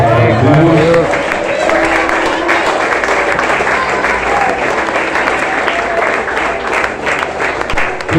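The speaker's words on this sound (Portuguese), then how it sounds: "Pode aplaudir a palavra de Deus" A church congregation breaks into loud, sustained applause during a Sunday worship service, with tonal music or singing at the start and voices murmuring underneath the clapping.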